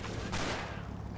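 Mortar team firing in the Combat Mission: Battle for Normandy game, a loud close blast at once giving way to a rumbling, crackling wash of gunfire, with a voice faintly underneath.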